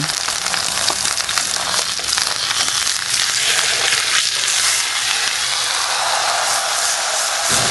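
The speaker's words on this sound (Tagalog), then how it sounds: "So ipapa-brown natin yung ating beef on all sides." Beef browning in a pot for a pot roast, a loud, steady, crackling sizzle heard up close and continuous throughout, with no voices.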